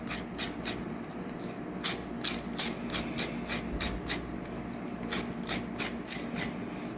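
A knife scraping down an ear of corn in a steady rhythm of rasping strokes, close and crisp, repeated about a dozen times with no talking.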